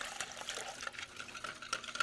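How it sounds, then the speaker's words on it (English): Two cups of water are poured for oatmeal crepe batter, a steady close splashing and trickling stream running throughout with small clinks, no talking. "This is 2 cups of water."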